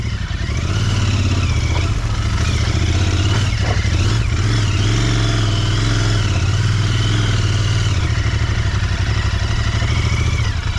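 A Royal Enfield Interceptor motorcycle rides off-road on the Leopard Trail in the Aravali Hills, its mid-pitched engine loud and steady throughout, rising and falling with throttle over clattering rough ground.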